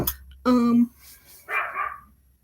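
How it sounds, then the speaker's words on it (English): A pet dog gives a single loud, close bark, followed a moment later by a shorter, softer yip or whine indoors. "My dog is barking."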